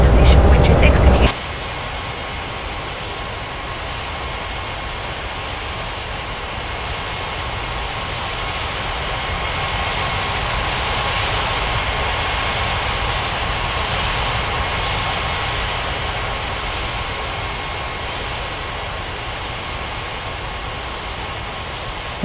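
Airliner engines in an air traffic control game hum at a steady, loud whine as the jet taxis, following a brief louder burst at the start, with no talk.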